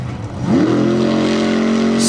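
A big Hemi monster truck engine roars up and holds a loud, steady rev during a walking wheelie at a Lima, Ohio monster truck race, close and alone.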